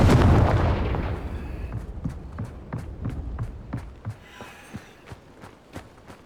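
A Confringo blasting spell goes off in Hogwarts Legacy with a loud opening boom that fades into a long rumbling tail, followed by a steady series of sharp, evenly spaced thuds.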